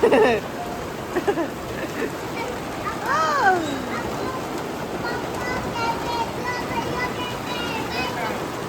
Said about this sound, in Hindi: अरे तेज हो गई बारिश।